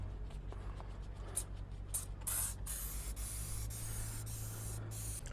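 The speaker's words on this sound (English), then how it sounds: "So basically you create a finer mist and some suds" Dawn Power Wash degreaser is sprayed as a fine mist onto an engine block. Several short, hissing spray bursts come in quick succession at close range over a low steady hum, with no voices.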